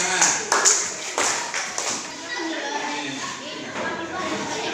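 Students in a classroom during an Islamic studies lesson clap hands in a short, scattered burst, followed by quieter room noise and low talk.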